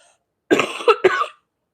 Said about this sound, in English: so I apologize for the hacking and coughing